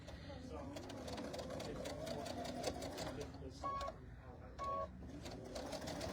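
Sewing machine stitching over bulky quilted banner seams, a fast close rattling whir in steady bursts, with soft talking and faint bird coos in the background.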